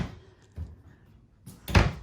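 A cabinet door inside a fifth-wheel RV trailer being handled, with soft rustling and light knocks followed by a single quick wooden thunk as it shuts, close and fairly quiet.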